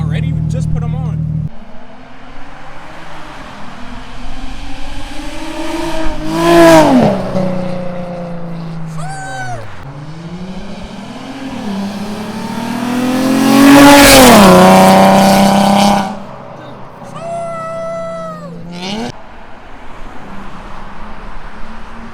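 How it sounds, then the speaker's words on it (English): Infiniti G35 fitted with new side splitters making several flybys, engine revving and swelling loud as it passes close then fading, with a tire squeal and voices talking in the background. "We're about to get some flybys real quick with the splitters and everything."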